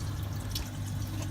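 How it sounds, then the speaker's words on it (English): Water drips from a tube into a home fish tank at medium speed, a soft, steady patter over a constant low hum. "it's doing sort of a medium speed drip"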